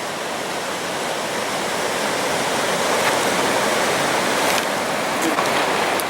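Steady, loud rushing roar of Cumberland Falls, a 125-foot curtain of water, a constant wash of falling water with no other sounds standing out.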